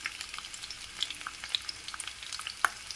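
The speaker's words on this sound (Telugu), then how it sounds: "క్యాప్సికమ్, బీన్స్ అన్ని వెజిటేబుల్స్ లైట్గా వేపేసుకున్నాం." Capsicum, beans and carrot lightly stir-fried in oil with ginger, garlic and green chilli for egg fried rice, giving a soft, steady sizzle with small crackles and light spatula taps close by.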